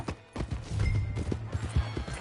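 Horse hooves clip-clopping at a steady trot in Red Dead Redemption 2, close and fairly loud, with other game sounds mixed in.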